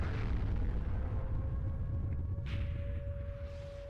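A tank-destruction explosion from the video game World of Tanks, a burst then a boom that rolls off and fades, with a brief crackle midway and no speech.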